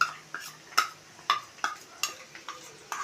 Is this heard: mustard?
yes